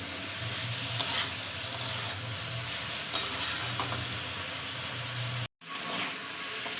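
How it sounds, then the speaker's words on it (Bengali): Fish curry with figs cooking in a pan, spices sautéing in hot oil with a steady sizzle and occasional stirring scrapes, close and continuous before a brief cut near the end. "আমি প্রায় 10 মিনিট ধরে কষিয়েছি মশলা দিয়ে"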